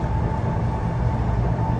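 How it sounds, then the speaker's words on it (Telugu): Steady broadband rumble inside a Seoul airport railroad train in motion, continuous and even throughout with no speech, suggesting a crowded carriage fitted with luggage racks. "ట్రైన్ అయితే వచ్చేసింది, కొంచెం క్రౌడెడ్ ఉంది."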